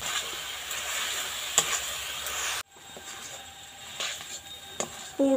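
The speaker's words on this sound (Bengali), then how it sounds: "নারকেলটা এইভাবে একটু ভাজা ভাজা করে নেব।" Grated coconut and sugarcane jaggery frying in a pan for a pitha filling, with a steady broadband sizzle and scraping stirs, a few sharper utensil knocks, and a brief dip in level midway.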